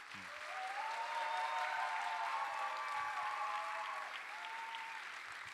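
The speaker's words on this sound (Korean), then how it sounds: "두성광 목사님 나오실 때 우리 박수로 환영합니다" Steady applause from a church youth-service congregation welcoming a pastor to the pulpit, a dense even wash of clapping that holds for several seconds at moderate volume with no talk over it.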